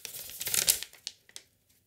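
Packing paper crinkles and rustles as a parcel is unpacked, a loud close burst of crumpling that trails off into a few scattered crackles before going quiet.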